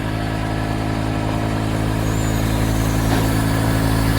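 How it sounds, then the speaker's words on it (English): A steady, continuous mechanical hum with strong low tonal bands drones evenly throughout, consistent with a Mercedes GL450 air suspension compressor running close by while the vehicle has a leaking air strut. "I think the air compressor is somewhere here and I can hear it running."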